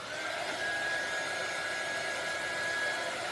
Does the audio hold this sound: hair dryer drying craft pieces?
yes